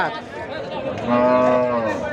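A Sahiwal cow with her calf at a cattle market lets out one long, low moo that swells midway, loud and close, over light background crowd noise.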